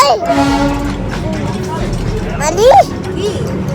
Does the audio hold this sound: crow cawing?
no